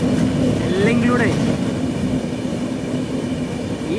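Konark Express train running in monsoon rain between Mumbai and Pune, a steady loud rolling roar with a droning hum throughout and a faint voice under it.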